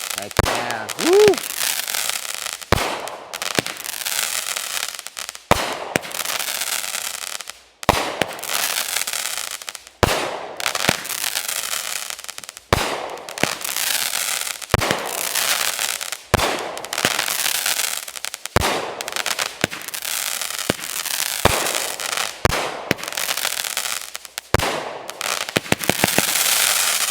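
Fireworks from a large consumer assortment fire one after another outdoors, with a dozen or so loud, sharp booms at a fairly regular pace, each trailed by crackling and hiss. A brief whistle is heard near the start, and excited voices can be heard among the shots.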